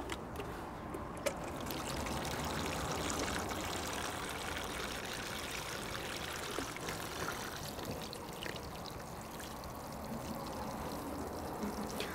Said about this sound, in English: Then I'm going to pour water in here and let the water expand